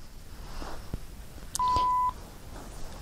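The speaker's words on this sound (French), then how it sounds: "j'ai mon enregistreur qui fait des bips" A portable audio recorder gives a single electronic beep of about half a second, clear and close over a quiet room background.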